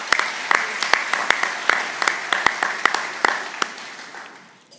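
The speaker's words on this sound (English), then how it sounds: "Let's give Miss Jenny a round of applause" Audience applause at an electric cooperative's annual meeting: a steady wash of many hands clapping, with sharp individual claps standing out, fairly close and alone, tapering off toward the end.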